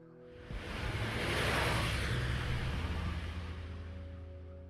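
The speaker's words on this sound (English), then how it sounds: "A split second later, the truck howls past." A truck howling past in the Steins;Gate video game: a broad rushing whoosh that swells over the first two seconds, then slowly fades as it moves away.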